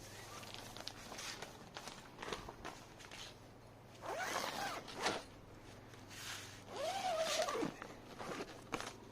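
The zipper on a fabric-covered caladium plant cabinet is pulled shut in two long, close, rasping strokes, separated by quieter rustling and handling.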